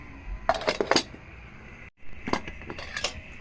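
A metal lid set onto a cooking pot of tuna head soup, a pair of close clattering clinks, a brief pause, then more rattling metal knocks as the lid settles.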